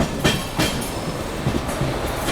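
WG9 locomotive hauling a train through Raipur Junction, a loud, steady rumble with rhythmic clickety-clack of wheels over rail joints, close by and with no voices.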